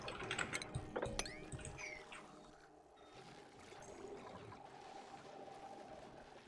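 Water trickling and pouring through pipes in the Oxygen Not Included video game, a steady gurgling flow with a few mechanical clicks early on, moderately quiet and alone without speech.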